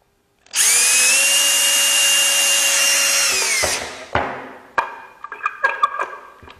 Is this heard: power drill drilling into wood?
yes